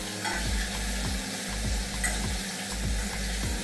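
Food sautés in a pan in Jamaican-style home cooking, with a continuous sizzle and a spoon or spatula knocking and scraping at a roughly regular beat, close and fairly quiet.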